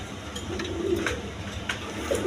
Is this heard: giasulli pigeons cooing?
yes